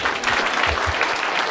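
Audience applause at a stand-up comedy show, a dense, even patter of many hands clapping together, loud and close for a short burst.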